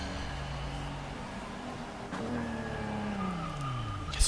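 A race car in Forza Motorsport 6 drones along with a dull, steady engine note, pitch sliding down as it shifts, then rising again, ending with a small thump.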